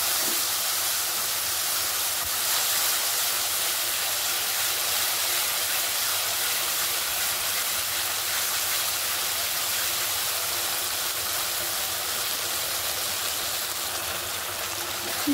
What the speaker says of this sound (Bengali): মশলাটা সুন্দর করে কষাই নিতেছে